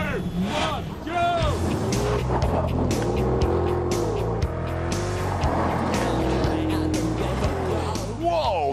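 An HSV GEN-F GTS Maloo ute accelerates hard and slides sideways, its engine revving and rising through the gears with tire squeal, while people talk excitedly over the noise close by.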